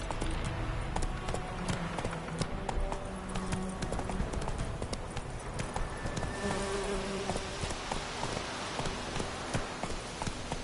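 Horse hooves clip-clop at a steady gallop in The Witcher 3, a quick rhythmic stream of fairly quiet hoofbeats mixed with soft buzzing ambience, with no speech.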